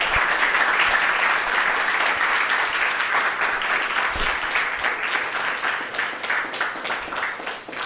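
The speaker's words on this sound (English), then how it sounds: "Give them a big round of applause, please." A live audience in Chicago applauds steadily at a podcast taping, a dense, loud wash of clapping that holds for the whole stretch and thins slightly toward the end.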